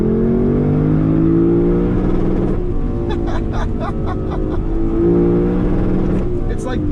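Lexus LC500 Convertible V8 droning at high revs, engine note held steady and loud with someone talking over it and sharp crackling pops from the exhaust.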